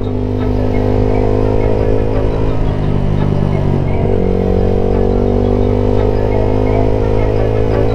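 A Suzuki Gixxer SF 250 motorcycle engine drones loudly and steadily while riding, with wind rush and occasional clatter throughout.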